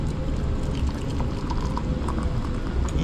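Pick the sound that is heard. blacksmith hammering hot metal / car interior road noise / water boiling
water boiling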